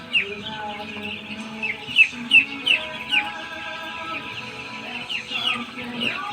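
Day-old-style broiler chicks on a farm cheep in a crowded brood, a cluster of shrill high peeps rising over a soft steady background chatter from many birds, fairly close.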